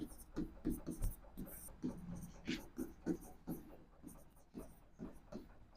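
Chalk or a marker taps and scratches across a board in short rhythmic strokes during a math lesson, fairly close, with a voice heard faintly between the strokes.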